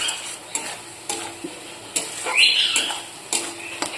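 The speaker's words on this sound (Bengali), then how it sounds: "ভালো করে কষিয়ে নেব।" Ground turmeric, red chilli, Kashmiri chilli powder and salt sautéing in oil for a lote (Bombay duck) fish curry, with a soft steady sizzle broken by repeated scraping stirs of the spatula, close and fairly loud, with no talking.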